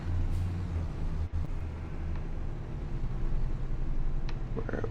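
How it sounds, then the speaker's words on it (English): A farm tractor drives around near the yard, its engine giving a steady low rumble throughout, with a brief dip and some faint clanks toward the end. "we'll pull the tractor around front"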